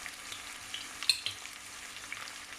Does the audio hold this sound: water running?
no